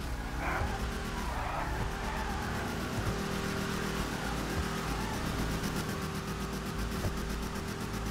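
A car in GTA Online does a burnout, its tires squealing against the engine's steady drone, a sustained moderate rasp that holds throughout without talk.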